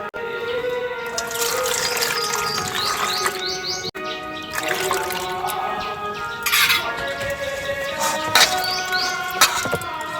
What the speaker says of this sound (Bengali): তো এই আমগুলো কাটার আগে ধুয়ে নেব।